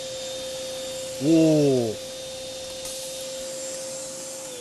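A vacuum cleaner runs with a constant, droning hum throughout, while a person gives a short exclamation partway through.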